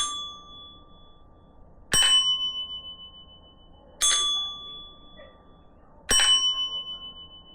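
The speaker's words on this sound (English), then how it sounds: "this has a fuller bell sound" Three bright bell dings from a caroling Christmas tree mechanism, each struck about two seconds apart and ringing out with a decaying, fuller tone over a faint steady hum.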